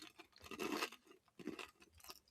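Crunchy food chewed close up, giving loud bursts of crisp crunching separated by short pauses, with no talk over it.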